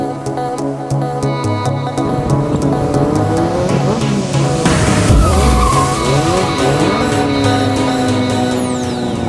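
Stunt riders skid motorcycle tires at a local stunt gathering, loud continuous engine roar with tire squeals and skidding screeches sweeping up and down, dense and close throughout.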